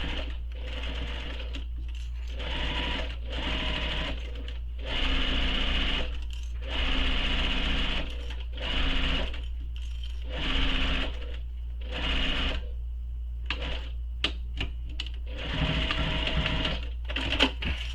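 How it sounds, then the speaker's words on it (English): A sewing machine bastes a gusset onto a backpack panel in a string of short, loud stitching bursts separated by pauses, up close over a constant low electrical hum. "you want to baste this in place using a seam allowance that'll be hidden when we sew the gusset to the panel"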